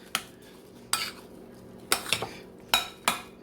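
A spoon stirring thawed whipped cream into icebox lemon pie filling in a bowl, giving several distinct clinking and scraping strokes at an uneven pace, close and fairly quiet with no talking.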